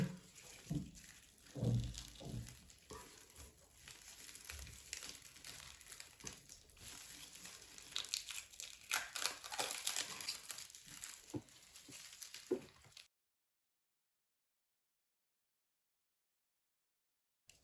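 A thin plastic separator is peeled from the foil layers of an opened lithium-ion battery, producing faint close crinkling and soft tearing that stops abruptly into silence.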